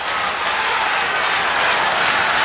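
A large crowd of wrestling fans claps steadily in Carver-Hawkeye Arena during an Iowa versus Arizona State college wrestling match in sudden death. The applause forms a dense, continuous wash of clapping that holds loud and even throughout.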